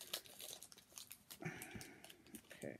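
Close crinkling and tearing of a small plastic blind bag package being opened, partly with scissors, with scattered crunchy rustles.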